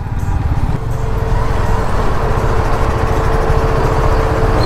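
A motorbike rides through road traffic, its steady engine drone loud and continuous with broadband road and wind noise throughout, no speech.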